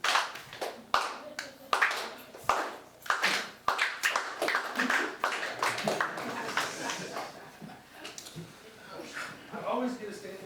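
A seminar audience claps on a presenter's cue, starting with several sharp, separate unison claps and then breaking into looser, continuous clapping, with talk and laughter over it.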